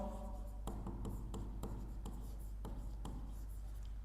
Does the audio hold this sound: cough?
no